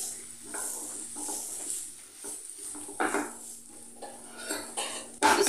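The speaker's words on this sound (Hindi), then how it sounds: "थोड़ी देर भून लेते हैं" Finely chopped capsicum frying in a pan for chicken sliders, heard as scraping and clinking utensil strokes against the pan in short bursts, with a faint steady sizzle beneath and a louder clatter near the end.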